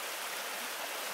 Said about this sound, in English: Look at how swollen and flooded this creek is.